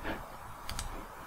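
A single soft mouse click on a delete button, close and faint, against a low steady background hum.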